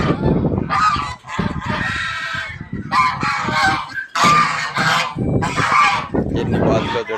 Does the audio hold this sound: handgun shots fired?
no